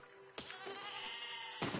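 Sheep bleat in the physics-based siege game Besiege, a couple of short wavering cries close by, the second cutting in sharply near the end over a steady background hum.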